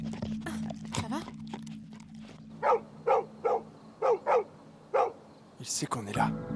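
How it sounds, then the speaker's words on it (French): A dog barks in a quick series of about seven sharp woofs, close by, with a steady low hum and some talk before and after. "Allez, Sean, arrête d'aboyer."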